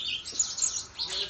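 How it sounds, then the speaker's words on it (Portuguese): A small bird gives a few quick high chirps, faint and at a moderate distance, spread across a second or so in otherwise quiet surroundings. "Olha o passarinho."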